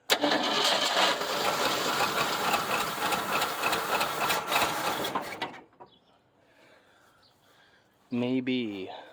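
A 1975 Ford Granada, neglected for years, cranks with a loud, rapid, steady churning for about five seconds, then goes quiet. A voice speaks near the end.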